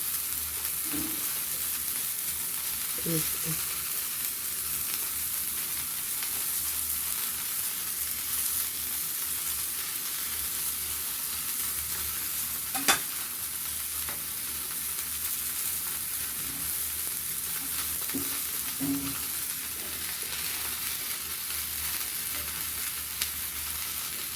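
Fish frying in a pan, a steady broadband sizzle running throughout at moderate level with a few faint clinks and one sharp tap near the middle, no voices.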